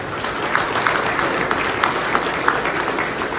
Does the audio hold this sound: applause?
yes